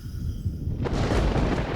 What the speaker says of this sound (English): It sounded like a thunderclap